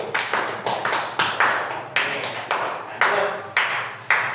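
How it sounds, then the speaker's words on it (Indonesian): A classroom of students gives rhythmic applause for a classmate, sharp, near claps in a regular pattern of repeated groups, each burst decaying quickly, with no voices. "Tepuk tangan untuk Bagus"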